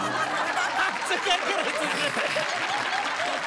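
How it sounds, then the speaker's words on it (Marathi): Studio audience on a Marathi comedy talk show clapping in a steady, dense wash for the whole stretch, with scattered chuckles and a brief spoken question over it. "जोरदार टाळ्या."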